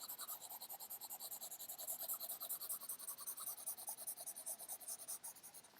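Steady back-and-forth rubbing of an eraser over writing on a classroom board, a close, rhythmic scrubbing of even strokes repeating throughout with no talk.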